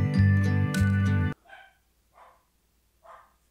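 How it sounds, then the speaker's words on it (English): A dog barks three short, separate times after a loud burst of music or background noise cuts off. The barks are moderately near and spaced about a second apart. "My dog is barking."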